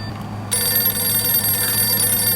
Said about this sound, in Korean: 전화가 걸려오네요.